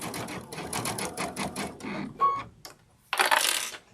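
Sewing machine stitching along a drawn line on a sunflower wall hanging, a rapid mechanical chatter for about two seconds, then a pause with a brief click and a short final burst.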